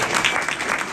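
An audience claps for mentors at a success-story event, a brief, steady round of close, lively applause filling the whole moment.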